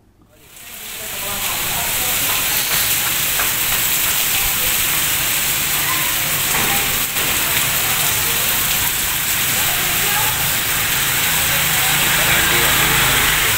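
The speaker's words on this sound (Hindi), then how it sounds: "अभी की क्लिप शेयर की है जो कि ज़बरदस्त सी बारिश हुई थी" Heavy rain pours down in a loud, dense, constant hiss that swells in during the first two seconds and then holds steady, a downpour drumming on surfaces close by.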